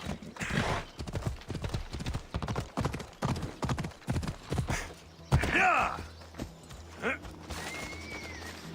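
A horse gallops in the Assassin's Creed Odyssey video game, its hooves making a rhythmic clip-clop that is brisk and clear for the first half. Other game sounds follow, along with a short whinny-like cry.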